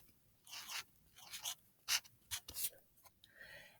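Pen strokes scratch across a graph on paper in short, irregular bursts, close and quiet, with brief pauses between marks.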